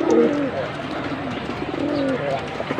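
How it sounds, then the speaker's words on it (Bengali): Blue ice pankhi pigeons cooing close by, low soft coos repeating in short bursts with a rustling, noisy background and a voice talking faintly underneath. "আর এগুলো হচ্ছে সুমন ভাইয়ের পাখি কবুতর"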